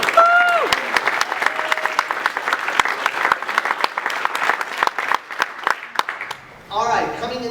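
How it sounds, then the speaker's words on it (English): A panel audience at Power-Con 2012, a Masters of the Universe Classics convention, applauds steadily with dense clapping, a whistle early on and voices mixed in, then cheers and shouts near the end. "Another round of applause for Daniel Bennett."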